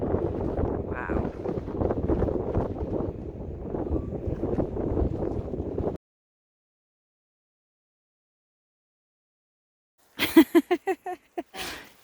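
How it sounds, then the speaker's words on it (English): Cold, gusty wind on the Appalachian Trail in Maine buffets the microphone with a low, rumbling roar for several seconds, then silence, followed by a brief burst of someone speaking. "It's so windy and cold."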